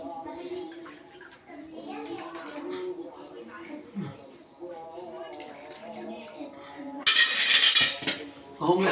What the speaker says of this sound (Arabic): نحطهم على الصحون دي.